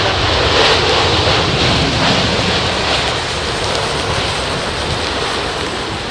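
An Air Canada airliner at London Heathrow Airport in heavy rain and wind, a loud continuous roar of engine noise and rain-driven wash that holds steady throughout.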